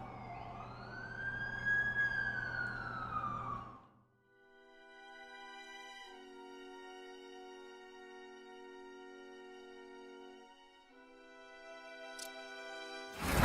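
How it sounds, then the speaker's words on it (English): In The Amazing Spider-Man 2 video game, an ambulance siren wails in rising and falling sweeps, then shifts into a steady electronic tone, moderately loud with engine rumble beneath and no talk. "That's the ambulance I called."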